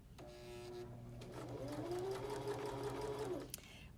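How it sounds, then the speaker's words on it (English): A Baby Lock Zeal sewing machine stitching fabric with elastic, a close steady mechanical whir that runs for a few seconds with a rising motor tone, then stops. "Once the machine has started sewing and it's stopped, now you go ahead and pull on your elastic."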